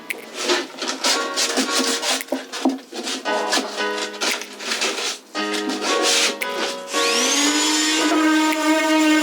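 Rhythmic rasping of sandpaper rubbing against a boat's hard surface in repeated strokes, close and loud, shifting into a smoother mechanical whine near the end.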